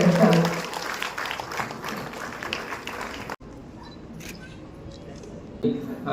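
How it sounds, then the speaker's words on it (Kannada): An audience at a staff health check-up and wellness program in Belagavi claps in a dense burst of applause that fades out after a few seconds, leaving a quieter room with faint murmurs. "ನಮ್ಮೆಲ್ಲರ ಚಪ್ಪಾಳೆ ಈ ಕಾರ್ಯಕ್ರಮಕ್ಕೆ ಶೋಭೆ"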